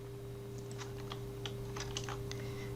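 Keys tapped on a computer keyboard, a scattered series of light clicks close by against a steady electrical hum, with no talk.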